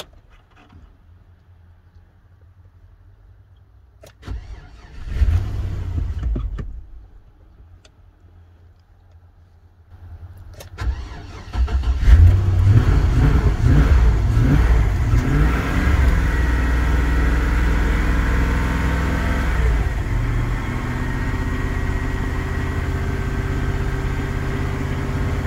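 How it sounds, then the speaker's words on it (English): A half-ton pickup truck engine cranks briefly after a jump start from a Jackery power station, then fires up and settles into a loud, steady rumbling idle, with a slight rev in pitch partway through. "The engine is running"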